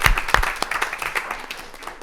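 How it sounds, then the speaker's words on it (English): An audience at a school board meeting applauding students: a burst of dense clapping from a crowd in a room, strongest at the start and gradually thinning. "Let us just take a moment to applaud this group of students once again for their achievements."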